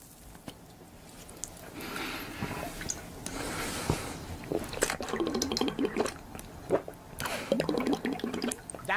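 Slurping drink sounds in the style of ASMR, apparently imitated by a voice: irregular wet sucking and squishy bursts, close and fairly quiet, growing busier and more rhythmic toward the end.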